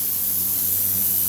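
Ryobi 2000 PSI, 1.2 GPM premium electric pressure washer spraying outdoors while cleaning off winter grime and growth, a loud, steady, close hissing spray with a low motor hum underneath, no pauses.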